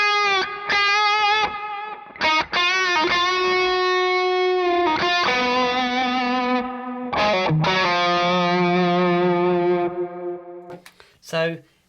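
Overdriven electric guitar runs through delay and reverb pedals in front of the amp, playing a series of strummed chords and held notes with short gaps, each sustaining under echoes before a final quick flourish.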